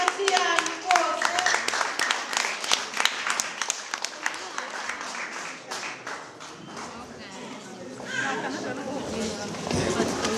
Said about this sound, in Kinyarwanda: Amashyi yanyu rwose.